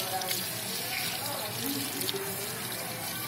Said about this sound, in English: And you're going to rinse thoroughly.